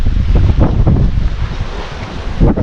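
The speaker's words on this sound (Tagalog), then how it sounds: "Lakas ng hangin ha." Strong gusty wind buffets the open seashore at Damortis, La Union, a loud, low, continuous roar of blustery noise pressing against the microphone.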